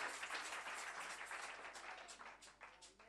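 Audience applause at a church anniversary testimony service, a steady broad wash of many hands clapping that fades gradually over a few seconds, no voices on top.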